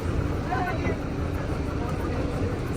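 Boat engine drone on the water at the Rhine Falls in Switzerland, a steady low rumble with a constant wash of water noise and voices talking over it throughout.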